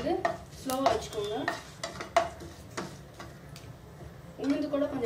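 Eggplant and onion sauté in oil on a stove over low heat, a faint sizzle with occasional stirring clinks heard beneath a voice talking throughout.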